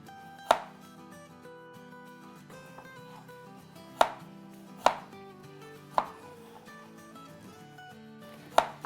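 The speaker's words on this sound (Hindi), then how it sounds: "जब तक हम अपने वेज काट लेते हैं।" A knife chops vegetables on a cutting board for Chinese sweet and sour ground chicken meatballs, giving five sharp, isolated chops spaced irregularly over a quiet kitchen background.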